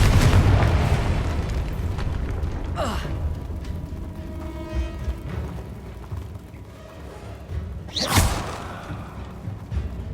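A Confringo fire spell goes off in Hogwarts Legacy, with a rumbling low blast at the start, a sharp whoosh near three seconds and a bright burst around eight seconds over a constant game ambience.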